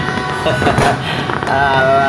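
Firecrackers popping in a dense, continuous crackle at close range, loud and steady throughout with sharp bursts layered over a constant roar.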